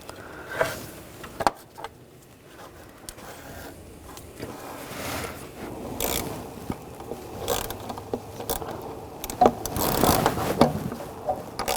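Mounting screws on a 2.0L four-cylinder 2009–2017 Volkswagen Tiguan throttle body are snugged with a hand tool, giving scattered close clicks, ratchet-like ticks and small metallic knocks amid quiet workshop handling noise.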